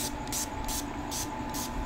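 Alcohol disinfectant sprays from a spray bottle in a series of short, evenly spaced hissing puffs, close and fairly quiet, with no talking.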